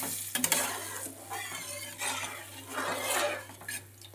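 A spoon stirs a thin bata fish curry with potato and taro in a pan, producing close scraping and clinking strokes over a soft sizzle, with no talking.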